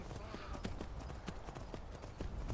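Horse hooves clip-clop in a steady, repeated rhythm close by, a string of sharp knocks heard under a constant background hum in a game scene.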